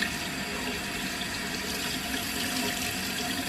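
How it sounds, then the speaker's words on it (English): Hot water runs steadily from a tap onto a washcloth, a continuous close hiss and splash with no breaks. "What you want to do is just wet it really good. Hot water, as hot as your skin can take it"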